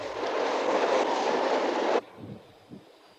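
A Shinkansen bullet train runs along the tracks with a loud, steady rush for about two seconds, then cuts off abruptly, leaving faint low rumbles and a couple of soft knocks.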